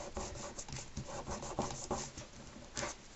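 Steady dry rubbing with short, rhythmic strokes as excess tape is rubbed down onto a ribbon on a handmade valentine card. The sound is soft and close, with no talking.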